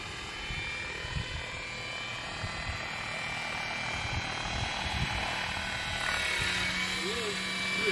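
Radio-controlled helicopter rotor spinning at high idle on a flying field, a steady continuous buzzing whir with a faint whine, fairly close and unbroken, with people talking over it.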